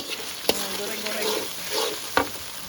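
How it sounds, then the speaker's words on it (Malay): Garlic sizzles in hot oil in a pan at an outdoor garden meal, with steady frying hiss broken by a few sharp clinks of a utensil stirring it, close and clear. "Goreng-goreng."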